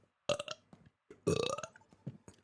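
Two loud, close burps from a Twitch streamer, a short one followed by a longer rumbling one that trails into quieter throaty sounds, with no speech.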